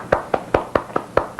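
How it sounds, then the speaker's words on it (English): Seven sharp, evenly spaced hand claps ring out close and clear in a quiet room, each a crisp single slap with a short decay. "Clap for me."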